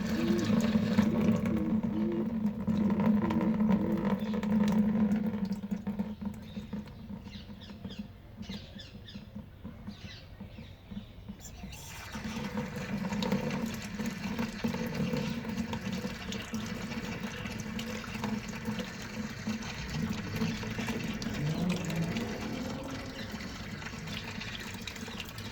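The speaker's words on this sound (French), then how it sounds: "donc maintenant on va rincer la pulpe" Water runs steadily from a tap over tomato pulp held in a small strainer while seeds are rinsed out, making a continuous gentle splashing and trickling with no speech.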